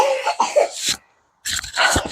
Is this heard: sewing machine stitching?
no